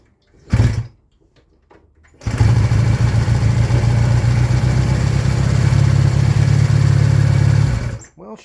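Honda CD 175 barn-find motorcycle under restoration: after a brief burst, the engine catches and runs steadily at a loud, close idle for several seconds before cutting off.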